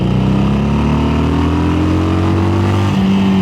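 A loud Harley-Davidson 883 SuperLow motorcycle engine runs continuously and close by, its pitch rising steadily as it accelerates, with a brief shift near the end.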